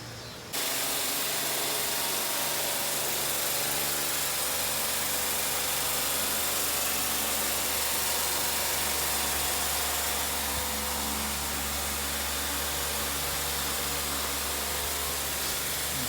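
A 1982 Mercury Capri with a 5.0 engine idles steadily through a single exhaust, a continuous low rumble with hissy broadband noise on top, close and constant with no talking.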